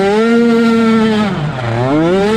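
Micro ATV engines screaming at high revs during a GNCC micro race, a dense, loud whine with pitch sweeping down and back up as riders shift and accelerate, continuous and close.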